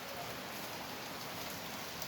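Rain falling steadily on a cool, rainy day, an even hiss of drops on surfaces at moderate level, continuous and alone.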